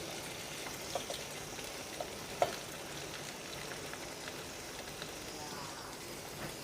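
Finely chopped onions fry in hot oil with a soft, steady crackling sizzle and a few small pops, faint and continuous throughout.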